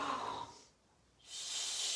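A voice imitates a long, rumbling snore: a breathy, hissing inhale, a brief quiet pause, then a loud, raspy snorting exhale.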